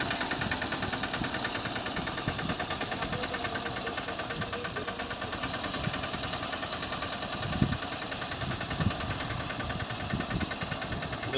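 Tractor engine running steadily while spraying pesticide on a cotton field, a continuous mid-pitched diesel drone with rattling knock and hiss, no talk.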